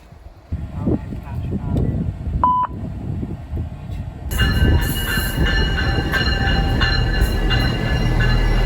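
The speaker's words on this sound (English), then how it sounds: "Okay, we are on the SMART train." A SMART commuter train pulls into the station, its loud rumble, tonal hums and a high whistle-like squeal building and holding to the end as it arrives, with a brief beep and the low bustle of the platform earlier.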